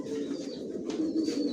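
A young black checker racing pigeon of Janssen stock coos softly and steadily, a low murmuring purr that runs continuously, faint and close, with no talking.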